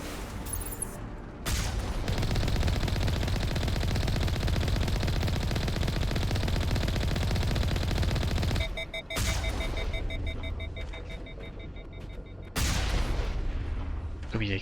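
Mass Effect combat: sustained bursts of rapid gunfire and booming explosions fill the scene, breaking off briefly twice before the firing resumes.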